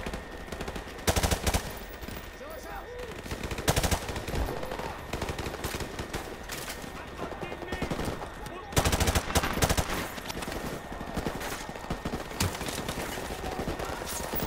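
Machine gun fire in the Call of Duty Modern Warfare video game, with dense, continuous rattling bursts and gunfire through the whole stretch, loud and sustained with a few sharper peaks, and some faint voice beneath.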